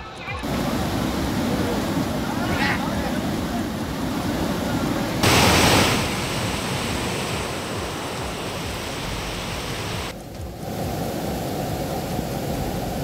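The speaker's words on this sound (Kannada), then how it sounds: "ಬೆಳಗಾವಿಯ ಸವದತ್ತಿ ತಾಲೂಕಿನಾದ್ಯಂತ ಮಳೆ ಆರ್ಭಟ ಜೋರಾಗಿದೆ" Heavy monsoon rain roars in a steady, dense wash of noise across Savadatti taluk, Belagavi, India, surging louder for a moment midway, continuous and close throughout.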